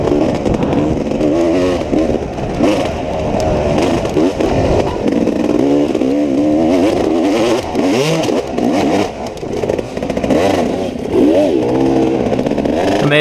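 Dirt bike engine revving hard and loud on a hill climb during a Lost Valley NCHSA race, with a steady throttle roar, pitch swings and clattering underneath throughout.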